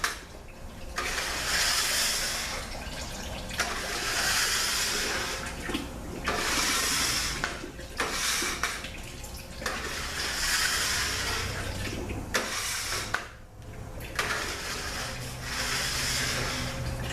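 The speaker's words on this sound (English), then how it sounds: "Just get rid of some of this oil here." Oil gushes steadily out of an overfull Ford 6R80 automatic transmission during a teardown, a continuous liquid pour in surges of several seconds with brief drops between, close and fairly loud with no talking.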